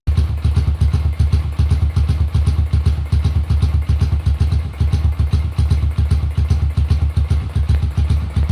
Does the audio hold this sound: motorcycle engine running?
yes